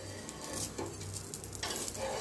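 A dosa roasts on both sides in a lightly oiled pan, giving a close, continuous hiss and crackle with a faint scrape partway through as it is turned.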